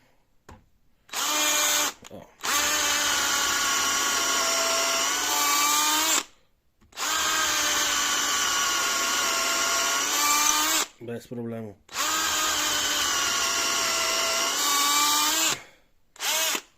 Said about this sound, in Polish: a jeszcze sobie sprawdzimy wiercenie